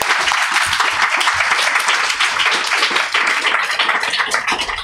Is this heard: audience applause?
yes